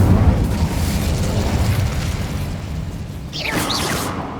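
In the video game Hogwarts Legacy, the Incendio fire spell goes off as a loud, rumbling burst of flame that rolls on steadily. A bright whooshing flare rises near the end.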